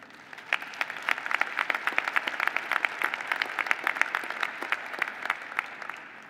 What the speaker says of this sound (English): Yes, you can applaud.